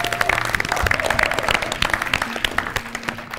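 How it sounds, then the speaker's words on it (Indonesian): An audience applauds at the final of a campus quiz competition in Indonesia, sustaining dense, loud clapping throughout without a break. "kalian harus tepuk tangan untuk semua tim di belakang TWK"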